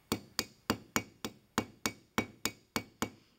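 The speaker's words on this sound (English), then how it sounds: "Then use your ball peen to gently mushroom the ends of the pin over." A ball peen hammer strikes the ends of a brass hinge pin, spreading them flat on a hinge for segmented Roman armor, making eleven crisp, evenly paced metallic taps in quick succession, close up and clear.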